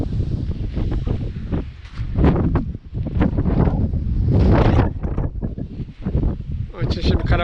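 Blustery seaside wind pounds the microphone in uneven, loud gusts that rise and drop, while someone speaks through the roaring buffeting.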